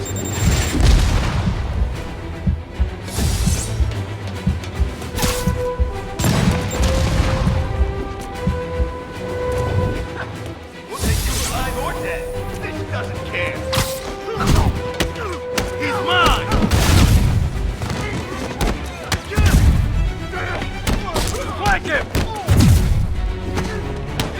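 Rocket launcher blasts boom through a Marvel's Spider-Man Remastered fight, deep thuds recurring amid dense game music and combat noise, with voices speaking over the action.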